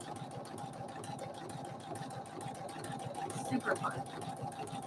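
A Husqvarna Viking embroidery machine stitches through sparkle vinyl on a greeting card with a steady fast mechanical whir and rapid needle clatter, close and moderate, while someone talks briefly over it.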